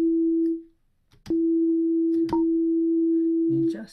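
A steady synthesizer tone with subtle LFO modulation sounds in separate key presses: a short note, a gap, then a long sustained note, loud and alone with a faint click midway.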